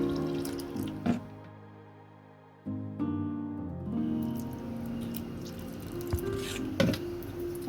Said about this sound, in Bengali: এবার আমি জল দিয়ে দিচ্ছি এর মধ্যে।